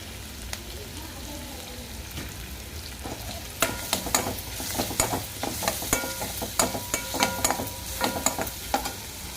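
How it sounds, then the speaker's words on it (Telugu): A ladle stirs food frying in a pan while cooking a Telugu buttermilk curry (majjiga charu) with asafoetida, giving repeated scraping clatters over a steady sizzle, close and moderately loud with no talking. "అది బాగా జరగాలి అంటే మనం ఎప్పుడు తిప్పుతూనే ఉండాలి గరిట అసలు ఆపకూడదు"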